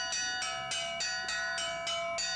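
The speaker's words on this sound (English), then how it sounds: "These are called African boat instruments" A metallic African boat bell is struck in a steady rhythm, about eight bright, ringing hits with sustained overtones, played alone and close up.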